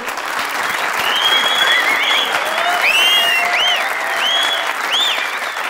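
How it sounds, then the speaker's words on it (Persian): Audience applause fills a gathering where poems are being read in the Iranian series Antenna, steady sustained clapping with a crowd wash throughout, while a few high whistles and cheers rise over it. "تشویقشون کنی که اخماشو واکنه"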